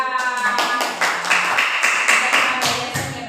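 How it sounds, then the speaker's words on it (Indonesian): Classroom applause rings out as students clap together, a dense steady patter of close hand claps lasting throughout without talk. "Ya, tepuk tangan buat Mbak Erita."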